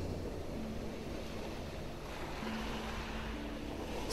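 Ocean waves wash gently onto a sunny sandy beach, a constant soft surging roar with a faint low hum beneath, steady and unbroken, with no voices.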